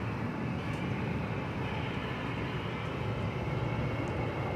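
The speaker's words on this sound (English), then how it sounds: "the American flight for London is right there, and it is going over the bridge" American Airlines Boeing 777-200 bound for London taxiing over a bridge at DFW Airport at night, a steady broad jet engine rumble and roar at a distance, unchanging throughout with no voices.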